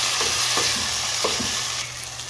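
Tomatoes cook with garlic in a hot pan for chicken afritada, a dense close sizzle broken by a couple of soft stirring scrapes.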